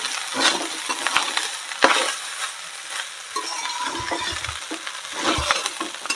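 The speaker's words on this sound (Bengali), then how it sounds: "ভাতটা কিন্তু পট করে ফুটছে" Cooked rice sizzling in a hot pan for Bengali fried rice while a spatula scrapes and stirs it, close up, in steady repeated strokes with a continuous frying hiss underneath.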